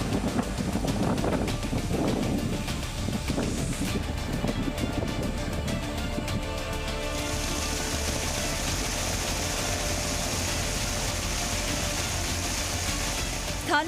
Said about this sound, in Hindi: बारिश के साथ साथ तूफानी हवाएं चल रही हैं।